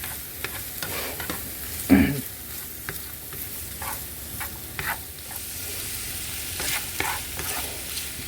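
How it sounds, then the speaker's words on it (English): Peppers and onions being stirred in a frying pan while making sausage, egg and cheese croissant pastries, a soft sizzle under irregular clacking and scraping utensil strokes, one sharper knock early on, no speech. "we're going to go ahead and add our peppers and onions. And we are going to give that a nice good old stir."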